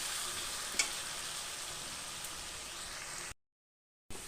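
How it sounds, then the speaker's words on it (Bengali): Sliced potatoes with salt and turmeric fry in a pan for a fish curry, giving a steady soft sizzle. There is one brief knock, and then a short silent gap before the sizzling resumes. "দিয়ে আলুগুলোকে ভেজে নিই"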